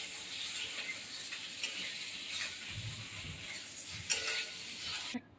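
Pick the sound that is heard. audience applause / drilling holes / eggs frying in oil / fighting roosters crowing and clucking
eggs frying in oil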